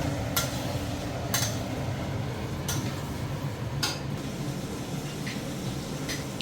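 Mutton being stirred in a pan with cumin, garam masala and turmeric powder: a steady sizzling fry runs throughout, broken by about five sharp scraping strokes of a spoon against the pan.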